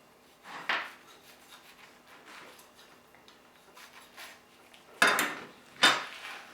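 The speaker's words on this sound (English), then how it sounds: "So a sharp knife is really helping this as well." A sharp knife trims tough beef ribs, giving a few short scraping cuts: one near the start and two sharper strokes close together at the end, with quiet rubbing in between.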